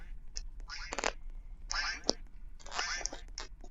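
A duck quacks in a Roblox game in several bursts of harsh, nasal calls with short gaps between them, fairly close and moderately loud over a faint background hum.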